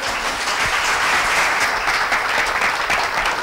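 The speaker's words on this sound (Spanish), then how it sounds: "Un aplauso." Audience at a talk applauding, a dense steady wash of many hands clapping throughout, loud and close.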